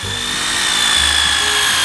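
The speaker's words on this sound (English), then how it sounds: "now you're going to drill 4 holes" Power drill boring four holes into a plastic bucket, a steady loud whirring grind that holds level for the whole stretch with no talk over it.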